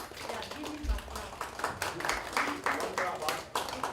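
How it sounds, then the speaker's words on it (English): An audience at a pharmacy school workshop gives a round of applause, with scattered, uneven claps continuing under a person speaking. "give him a clap"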